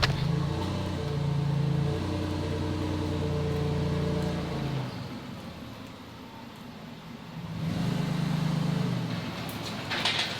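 A truck carrying a Honda K24A2 engine pulls into position, its engine and motion noise droning with a dip in the middle before rising again, no voices.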